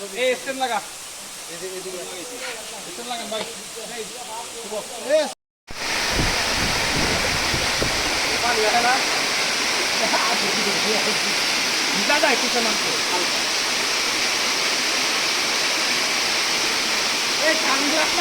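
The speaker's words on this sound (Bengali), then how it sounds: "কি সুন্দর ঝর্ণা" Sahasradhara waterfall at Sitakunda roars with a loud, constant rush of falling water; people talk over it briefly at first, then after a short cut the torrent fills everything steadily.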